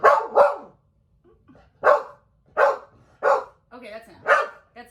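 A pet dog barks and yips in short, loud bursts close by, roughly six sharp calls with brief pauses between them, some trailing into whiny, howl-like tones in an indoor podcast setting.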